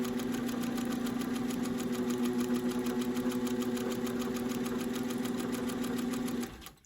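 Close and steady, a sewing machine runs continuously while stitching a straight seam, its motor humming with fast, even needle ticking before winding down and stopping right at the end.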